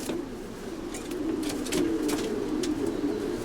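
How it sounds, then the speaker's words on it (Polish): A male racing pigeon cooing close by in a low, soft, continuous warble, with faint rustling around it. "Piękny ptak, samczyk."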